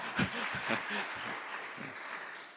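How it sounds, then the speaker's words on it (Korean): A church congregation applauds in a quiet, fairly distant wash of clapping for children who have just performed a song with hand motions, and a voice briefly speaks over the start. "박수."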